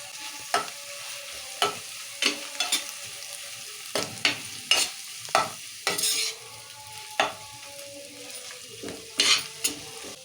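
Chicken curry with masala, mint and coriander being stirred in a pan, a spoon scraping in short repeated strokes over a steady soft sizzle, close and clear, with no voices.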